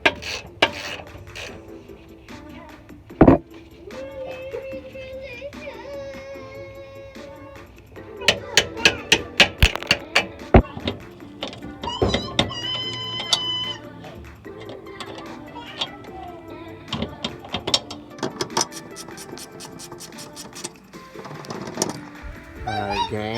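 Tools work on the rear shock mounting of a Mercedes C300 W204, with scattered clanks, ratchet ticks and metallic clicks in irregular bursts, close and moderately loud.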